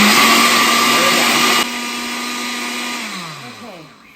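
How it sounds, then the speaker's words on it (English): A kitchen blender running loud and steady on hot water, a harsh high whine that abruptly drops in intensity and then winds down as the motor slows to a stop. "I'm gonna start this and blend this for 10 minutes"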